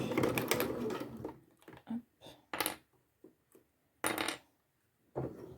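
Sewing machine topstitching a zipped padded fleece-lined pouch, near and fairly loud, in short stop-start bursts with brief pauses between runs of stitching.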